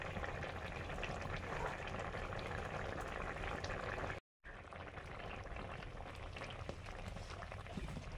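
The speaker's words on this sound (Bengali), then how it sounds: "ঝোলও ফুটে গেছে।" Curry gravy boils in a pan on the stove, a dense continuous bubbling that runs steadily with one brief dropout midway.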